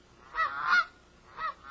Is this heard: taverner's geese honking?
yes